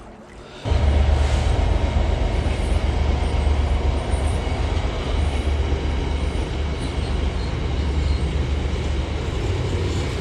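A train rolls loudly and steadily over a railway line crossing a small Kent brook, a continuous close rumble with wheel noise that starts suddenly and lasts throughout, with no talk.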